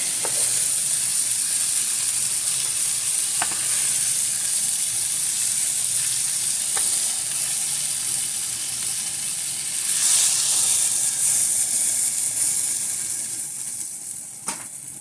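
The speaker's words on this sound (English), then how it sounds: "I'm going to deglaze this pan, and then we're going to add everything in together." A hot pan that has just browned chicken hisses in a loud, steady sizzle as it is deglazed, with a brief surge of steam partway through and a few faint clinks.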